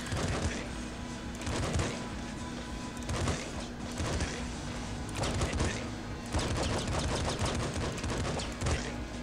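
Machine gun fire in Nuclear Throne, a top-down shooter game, comes as repeated rapid bursts of loud, crunchy gunshots, with short pauses between volleys over a constant droning game background.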